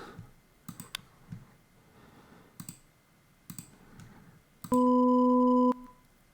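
Soft clicks and taps come first, then a single loud, sustained organ-like synth tone rings out for about a second and stops abruptly.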